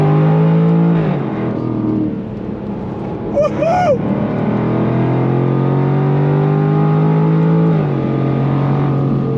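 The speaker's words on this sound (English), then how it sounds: "God, that engine pulls all the way to redline." Supercharged 5-liter V8 in a 2023 Jaguar F-Type R accelerating hard, a loud close engine roar climbing through the gears with a brief shift dip, while a voice whoops partway through.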